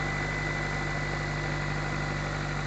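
A 1995 GSR engine idles right after a cold start with a steady, even rumble and a faint rapid ticking, close to the microphone and alone, with no voices.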